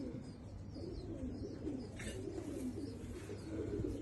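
Soft, low pigeon cooing, fairly close, repeating in a murmuring rhythm over a dull background rumble.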